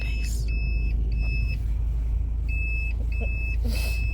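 A car drives through a college gate with a steady low engine rumble throughout, while short electronic beeps repeat at regular intervals above it.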